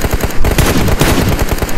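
Rapid gunfire from PUBG crackles in dense automatic bursts, loud and continuous with sharp repeated shots and no pause.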